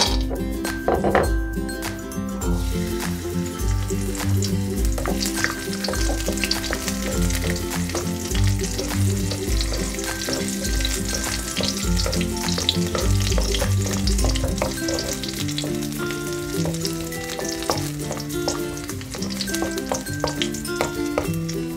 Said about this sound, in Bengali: এবার গ্যাসের ফ্লেম লোতে রেখে কাজু কিশমিশগুলো হালকা করে ভেজে নেব